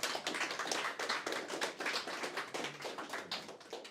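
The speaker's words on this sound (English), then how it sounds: "On peut encore vous applaudir, je pense." Audience applause following a demo day presentation at a C# specialisation course in Laval, a steady dense patter of many hands clapping throughout at moderate loudness, with no voices over it.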